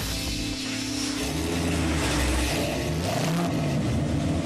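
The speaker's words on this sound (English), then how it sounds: "This is what the street exhaust sounds like." Jeff Gordon's car idling and revving through its street exhaust, a steady loud rumbling burble with rising and falling engine pitch, heard up close with no talking.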